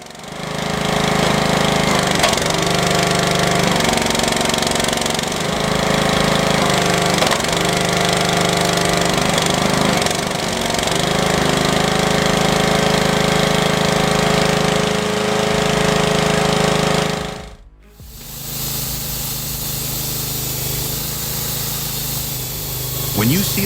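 A homemade engine-powered firewood splitter runs with a loud, rough, continuous mechanical roar and rhythmic pulsing, cutting out sharply near the end before a quieter machine hum resumes.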